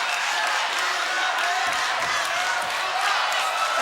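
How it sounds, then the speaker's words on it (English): A fight crowd at a mixed martial arts bout roaring and chanting for fighter Nabil, a dense continuous wash of voices from a large arena audience, loud and sustained throughout. "A chant from Nabil goes up from this crowd"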